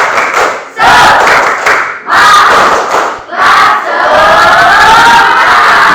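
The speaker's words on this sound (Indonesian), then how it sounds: "Biasa kita tepuk semangat dulu satu kali aja." Classroom of informatics students doing a rhythmic group cheer, loud bursts of shouting and clapping in several phrases with brief pauses between them, voices in unison filling the room.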